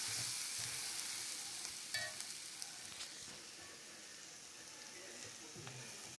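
Ground masala being stirred into sautéed onion, ginger, garlic and curry leaves in a pan, with a soft continuous sizzle and occasional light scrapes, fairly quiet, no talking.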